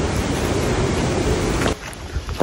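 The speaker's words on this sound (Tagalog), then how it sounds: "Silipin natin yung waterfalls." A waterfall rushes loud and steady as a broad, close wash of water noise that drops off abruptly near the end, with a brief clatter following.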